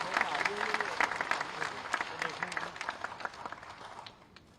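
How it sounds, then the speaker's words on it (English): Applause from an audience at a university inauguration ceremony for a national law university in Prayagraj, a steady patter of clapping lasting several seconds with voices murmuring underneath. "Please give a big round of applause on this occasion."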